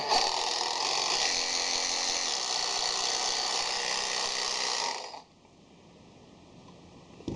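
Cordless 20V reciprocating saw running unloaded, a loud steady high whine for about five seconds that then drops abruptly to a faint hum as it stops.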